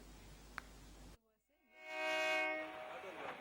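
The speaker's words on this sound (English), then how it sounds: "When the train blared its horn at 7 this morning in Umoja" A train horn blares in Umoja, Nairobi, a loud sustained multi-tone blast that swells in after a short gap and then fades, following a brief stretch of background noise.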